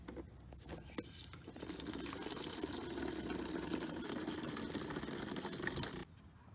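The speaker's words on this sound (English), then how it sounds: "So I'm just going to fill it up with the rain barrel here." Water from a backyard rain barrel pours steadily into an old plastic iced tea jug, a continuous splashing fill that runs for several seconds and then stops abruptly, with no talk.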